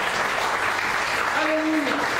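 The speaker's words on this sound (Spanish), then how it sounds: "Denle una ofrenda de palmas a Él." A church congregation applauds during a Spanish-language Christian sermon, a steady wash of clapping with a brief faint tonal sound partway through.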